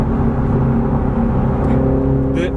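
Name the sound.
BMW Z4 sDrive30i G29 roadster exhaust sound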